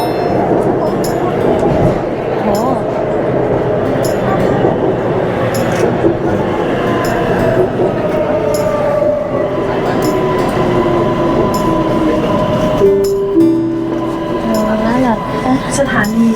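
A Bangkok MRT underground train rumbles and clatters along the track with a steady loud roar, faint squeals rising near the end, and people talking underneath.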